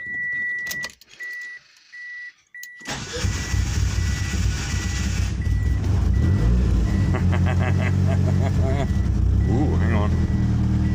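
A car engine cranks over with help from a YA40 jump starter, preceded by repeated dashboard warning beeps, then a loud churning crank and rough running engine close by with metallic rattles.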